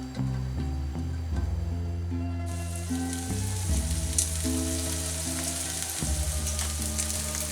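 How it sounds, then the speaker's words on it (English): Bacon and chorizo hit a little hot olive oil in a pan, setting off a bright, continuous sizzle partway through over a steady background of music. "Okay, so we've got just a little bit of olive oil in the pan. The heat is already on. Get our bacon and chorizo."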